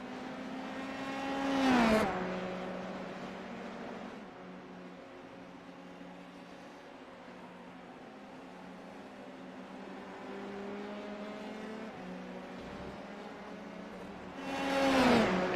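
Formula 3 race cars at the German Grand Prix, engines whining and revving on track, with louder passes near the start and end and a steadier droning engine note in between.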